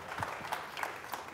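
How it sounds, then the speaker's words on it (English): An audience at a keynote talk applauds itself, a short burst of scattered, fairly soft clapping with a few sharper claps standing out, heard without talking. "All right, clap for yourselves."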